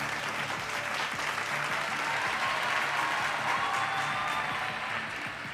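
An audience in Kozhikode breaks into sustained cheering and applause, a dense, steady wash of clapping with crowd roar that holds at an even level throughout, no talk over it.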